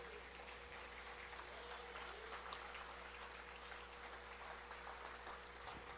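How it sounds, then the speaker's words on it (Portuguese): A church congregation claps steadily for several seconds, a dense, even patter of many hands heard from a distance at low level. "Aplauda o Senhor por um pouco de tempo."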